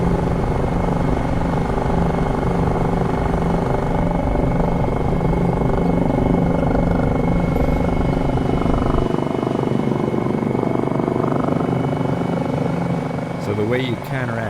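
A helicopter in Microsoft Flight Simulator 2020 drones with a steady rotor thrum and engine whine throughout, loud and continuous, easing slightly near the end.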